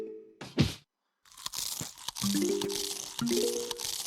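In the Plants vs. Zombies video game, a zombie munches on a Tall-nut: a brief crunch, a pause, then repeated chomping bites with little tonal game chimes, moderately loud and close.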